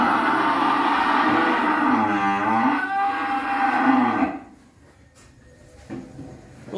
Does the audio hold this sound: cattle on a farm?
yes